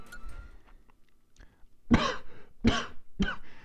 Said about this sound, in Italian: Troppa tosse stasera.